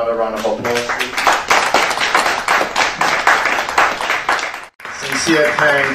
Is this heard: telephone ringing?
no